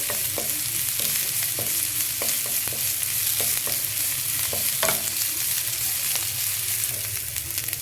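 Finely chopped ginger and garlic fry in a spoonful of ghee, a dense close crackling sizzle with repeated light clicks and taps of a spoon stirring throughout, no voices.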